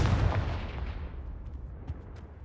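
A Confringo fire-blast spell exploding in Hogwarts Legacy, a heavy booming burst at the start that rumbles and decays over a couple of seconds, with faint scattered crackles trailing off.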